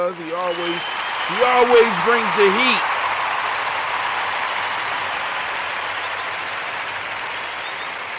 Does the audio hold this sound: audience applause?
yes